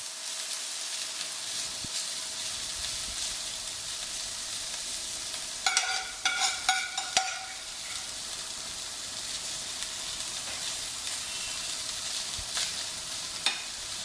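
Vegetables laid onto a sizzler plate heated for ten minutes over gas, for a Schezwan chicken sizzler, give a steady broadband sizzle with a brief burst of louder crackling and spitting midway, then settle back to an even hiss; no talking.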